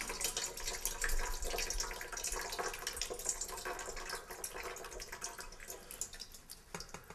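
Soak water drained from sprouting seeds in a jar, a continuous light trickle and splash with small drips, fairly faint and tapering slightly toward the end.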